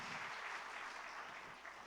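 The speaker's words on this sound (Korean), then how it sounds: "축하의 박수 해주시기 바랍니다" A church congregation claps in congratulation after a baptism, with a dense, even wash of applause that holds steady and then tapers slightly, fairly faint and without voices.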